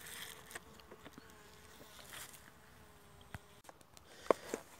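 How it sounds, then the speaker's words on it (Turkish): A bumblebee buzzes around a wooden beehive at an apiary. The hum is faint but continuous, with a few brief louder passes and small taps near the end. "Bir bombusu daha gönderelim."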